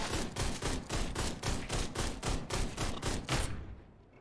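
Rapid gunfire in the video game Ride to Hell, a dense rhythmic burst of about a dozen shots at a steady pace, loud and close, stopping abruptly near the end.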